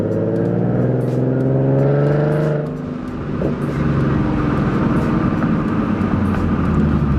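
A Ford Mustang 3.7L V6 fitted with BBK shorty headers revs up loudly with a rising, steady engine note, then drops briefly and settles into a rough, rumbling idle-to-revving drone close by.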